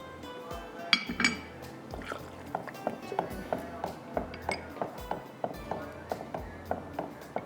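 A spoon scraping and clinking steadily against a pot while coconut milk and condensed milk jelly mixture is stirred, in a quick repeated rhythm close by, with light talk over it.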